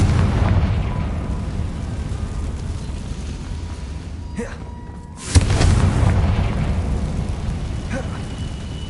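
A Confringo fire spell explodes in Hogwarts Legacy, one deep booming blast partway through amid a low rumbling game soundscape.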